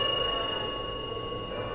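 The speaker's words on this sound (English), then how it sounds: "Ring the bell." A single bell rings out in the point-and-click horror game At Dead of Night, a clear metallic ding whose tone hangs on and slowly fades in otherwise quiet surroundings.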